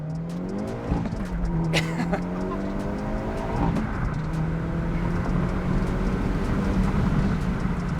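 A tuned 2022 Hyundai Elantra N with a Stage 1 tune launching hard through first gear on a dusty surface, engine note climbing steadily with tire chatter, loud and close, then a shift and continued strong acceleration.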